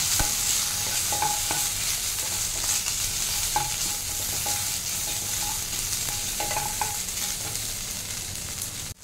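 Chicken pieces frying in hot oil while being stirred, a steady close sizzle with scattered light scrapes and taps of the utensil against the pan, with no talking.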